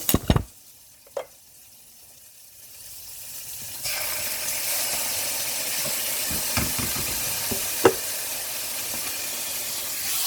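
Spicy chili garlic sauce poured into a hot pan starts with a few knocks and clatters, then breaks into a loud, steady sizzle and hiss of frying that continues to the end, with occasional stirring taps.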